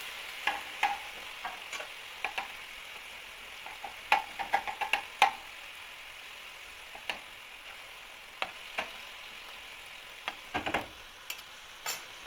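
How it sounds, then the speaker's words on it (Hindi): Chicken mince fries in oil in a pan, a faint steady sizzle broken by scattered sharp ticks and stirring clicks over about twelve seconds, with no talking. "अभी हमने ऑयल में चिकन का कीमा डाल दिया है"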